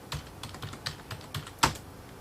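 Rapid, irregular keystrokes on a computer keyboard, close and fairly quiet, with one sharper, louder key press near the end and no speech over it.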